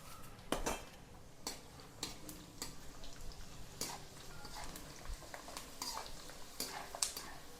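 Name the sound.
frying dried onion in a kadhai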